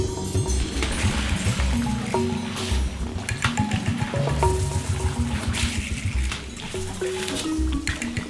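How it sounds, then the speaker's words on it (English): Elephants splash and slosh in water and mud right beside an underground photographic hide, giving a steady, close run of wet sloshing and trickling with no clear pauses. "They splash the photographers inside the hide with mud."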